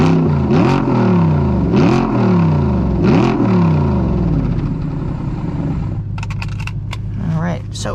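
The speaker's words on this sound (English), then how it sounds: "So let's do a couple revs so you guys can hear what this thing sounds like." A 2014 Audi R8 V8 with a gated manual revs hard three times in quick succession, each rise and fall loud and close, then drops to a rumbling idle with some clicks.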